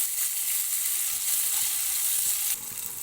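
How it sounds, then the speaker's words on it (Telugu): Cauliflower, carrot, beans and broad beans fry in a pan while being stirred, a steady close sizzle holding for about two and a half seconds before dropping slightly quieter toward the end. "దీన్ని బాగా ఫ్రై చేయండి"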